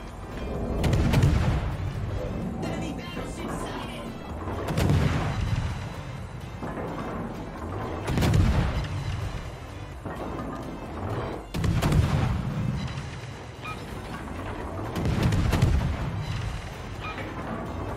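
Naval guns from warships fire in World of Warships, heavy booming salvos recurring every few seconds over a steady rumbling background, loud and close, with no talking.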